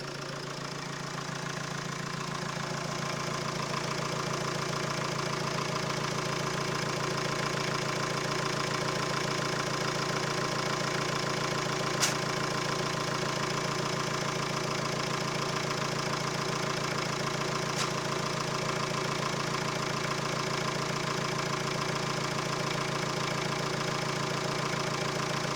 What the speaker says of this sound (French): on constate une surpression au niveau du bas moteur qui est assez énorme